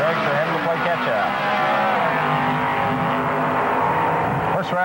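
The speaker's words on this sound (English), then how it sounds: "Three comes down, full body car getting the head start over the dragster." Drag race engines roar down the strip at a 1979 NHRA comp eliminator round in Edmonton, a full-bodied car and a dragster revving hard and continuously, with an announcer talking over the loud, sustained roar.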